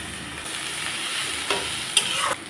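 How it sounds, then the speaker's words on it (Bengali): Potatoes and eggplant fry in oil, a dense, continuous sizzle heard up close, with a couple of brief clinks or stirring knocks near the end. "আলুগুলোকে 1 মিনিটের মতো ভেজে নিলাম। এখন দিয়ে দিচ্ছি"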